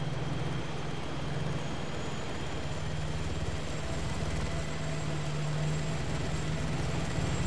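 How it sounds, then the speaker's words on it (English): A helicopter in the military game Arma 3 drones steadily throughout, a continuous low rotor and engine hum with a faint whine above it, holding even and unbroken from start to end. "I hear a helicopter."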